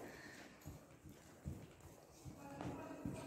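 Horse hooves walking on the footing of an indoor riding hall, soft irregular thuds close by, while someone talks over them.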